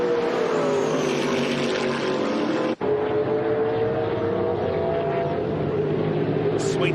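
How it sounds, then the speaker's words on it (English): TA2 muscle cars rumble around the Mallala race track on the Adelaide Plains, a loud, steady engine drone with one brief dropout midway. "Sweet sounds of these TA2 muscle cars rumbling around the Adelaide Plains this afternoon"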